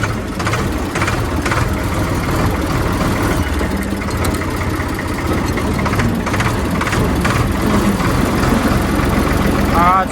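A tractor engine idles and rolls forward, a steady, loud, close rumble that runs without a break for the whole stretch, with faint voices in the background.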